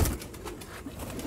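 Sialkoti pigeons cooing amid the general bustle of a loft, their soft throaty coos rising over a noisy, cluttered background during a short stretch.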